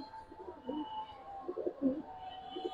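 Giribaz pigeons coo softly nearby, a few low burbling coos rising and falling over a quiet background.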